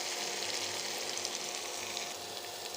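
Eggs and cauliflower frying in a pan give a steady, close sizzle with a bright hiss running unbroken throughout, with no talking.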